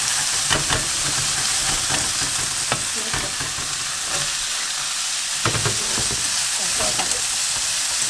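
Potato and carrot stir-frying in a hot pan for omelet rice, with a steady loud sizzle and scraping stirs of the spatula at irregular moments throughout, with no voices.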